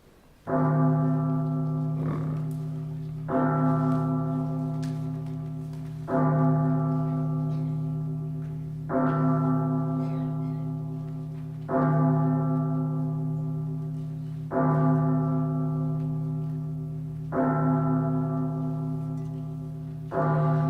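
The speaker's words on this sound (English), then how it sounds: "Scrooge woke when he heard the bells sounding the hour of midnight." Church bells strike midnight with slow, even tolls. Each clear, resonant stroke rings out and decays before the next, repeating about seven times, with no other sound.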